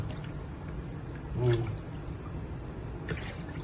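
Water runs steadily down a freshly unclogged kitchen sink drain, a continuous pouring wash that lasts throughout, with a brief voice rising over it midway.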